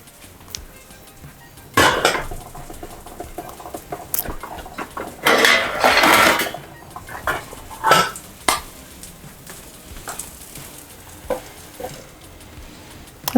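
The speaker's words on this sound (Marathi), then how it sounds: "आता मी याच्यावर झाकण ठेवते." A metal lid is set onto a pan where a fenugreek-onion dhapate flatbread fries in oil, with clinks and clatter of cookware over a soft sizzle, several sharp knocks scattered through.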